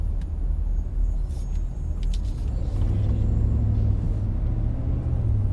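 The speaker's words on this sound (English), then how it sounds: "I'm going to let this bus go ahead." Heavy vehicle rumble of a bus pulling ahead at the LAX arrivals lower level pickup curb, a steady low drone that thickens as the engine load rises, with faint hiss and traffic bursts over it and no talk.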